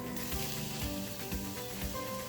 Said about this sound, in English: Not as much of an initial sizzle as I would like